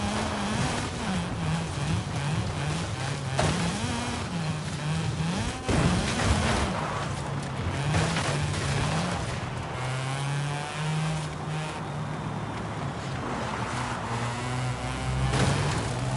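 A Mazda RX-7 engine in the Forza racing game revs hard and shifts through gears, a loud, continuous rising and falling drone with sharp jumps in pitch at each gear change.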